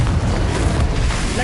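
A Confringo spell explodes in Hogwarts Legacy on PS5, a loud fiery boom that fills the whole brief moment with a dense roar and rumble, with speech in the background.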